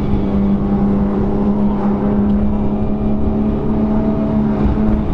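A 1000hp Nissan Skyline GTR running close by, a loud, steady low engine drone with a strong constant hum and rough, growling texture, holding level without clear rises or drops.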